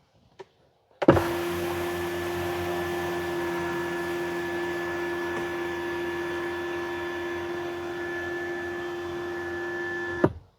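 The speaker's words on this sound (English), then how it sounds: "Pushing the close button once brings the sunshade all the way forward." A Tesla Model Y's electric sunshade closes, its motor whirring in a steady, even drone for about nine seconds after a small click, then stopping with a soft thunk; no one speaks.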